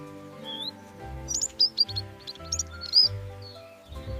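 A finch chirps in short, high, scattered peeps over a steady low background hum, fairly faint and bunched in the middle.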